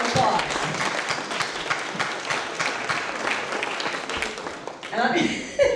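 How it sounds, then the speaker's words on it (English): An audience at an annual association meeting applauds an awardee, with steady clapping sustained for several seconds and speech running under it, then the applause fades as a voice carries on. "let's first give him a round of applause"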